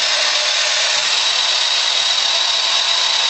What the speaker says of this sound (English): So you know how to work this chainsaw right here?